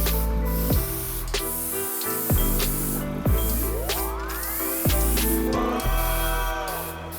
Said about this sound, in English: I'll be airbrushing the final base coat.